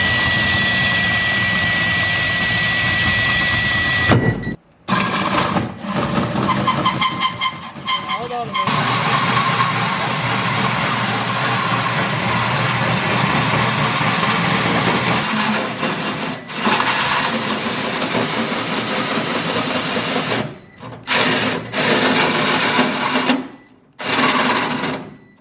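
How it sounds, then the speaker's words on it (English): A power drill whines continuously in long bursts, drilling holes in a car fender, stopping and restarting several times with short gaps between runs. "you saw the hole getting drilled"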